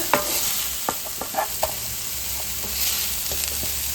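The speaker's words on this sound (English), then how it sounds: "So first let me just give it a good stir." Green masala and chopped tomato stirred and frying in a pan for prawn biryani, a steady loud sizzle broken by a few scraping stir strokes near the start, with no talking.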